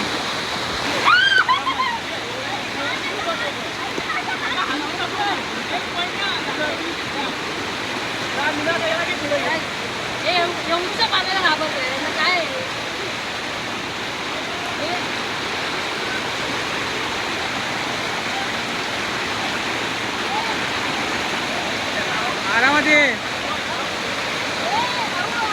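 Water rushes steadily along a trail on the Mahuli Fort trek during heavy rain, a loud, continuous broadband roar near the listener, with a voice speaking briefly over it.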